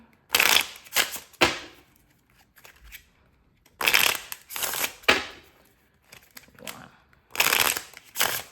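Playing cards are shuffled in several quick riffling bursts, each a crisp flutter followed by short taps and pauses.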